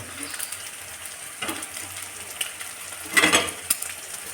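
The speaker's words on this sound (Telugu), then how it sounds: "ఈ విధంగా సింపుల్గా మనం ఎగ్ ఫ్రై రెడీ చేసుకోవచ్చు" Egg frying in a pan on the stove for egg fried rice, a soft continuous sizzle with scraping stirs and a louder burst of crackling near the end, close by.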